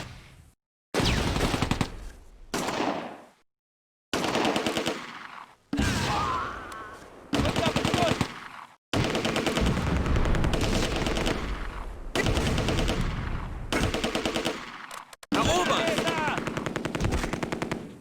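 Rapid bursts of gunfire in the World War II strategy game Close Combat: A Bridge Too Far, loud and dense, coming in repeated volleys separated by brief silent gaps.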